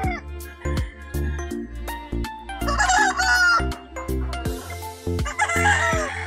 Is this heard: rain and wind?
no